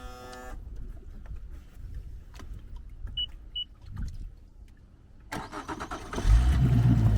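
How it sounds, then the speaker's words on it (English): A 90 horsepower Honda four-stroke outboard on a 2021 Starcraft Starweld 17 Flex aluminum boat cranks and catches, rising into a loud, steady engine rumble near the end after quieter clicks and rattles. "Give it a start up here."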